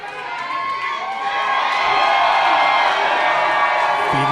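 Crowd at an independent wrestling show cheers and shouts in a building roar that swells and holds loud for several seconds.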